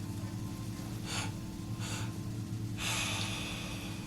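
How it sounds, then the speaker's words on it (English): A person takes slow, deep breaths into the chest during a guided meditation, with three audible airy breaths, two shorter and one longer, over a steady low background hum. "Make sure you're breathing into the top of the chest."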